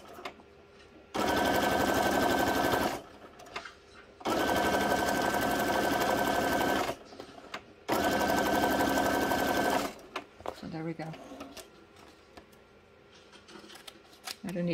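A sewing machine stitches paper journal cards in three loud, close bursts of a couple of seconds each, separated by brief pauses, followed by quieter handling noises.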